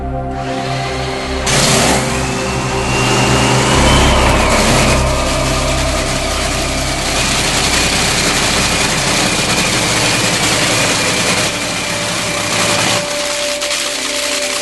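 A nitro drag racing engine fires up and roars at full power, a loud, sustained, harsh blast that swells after a couple of seconds and holds steady before dropping off near the end.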